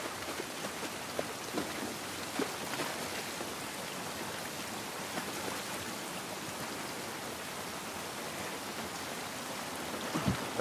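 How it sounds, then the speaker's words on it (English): Rain falling outdoors in the video game The Last of Us Part I, a steady hissing patter of drops on surfaces that holds even and moderately quiet throughout, with a few slightly louder splashes near the end. "This rain ain't gonna do us any good."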